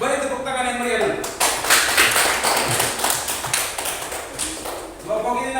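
Classroom group applause during a Catholic religious education teaching session, brisk clapping swelling after a voice and running steadily for several seconds before talk resumes at the end.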